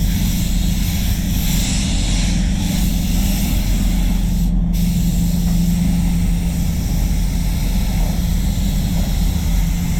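A spray gun laying clear coat on the side panel of a Ford FG Falcon, a loud steady hiss of air and paint rushing close by, unbroken apart from a very short dip.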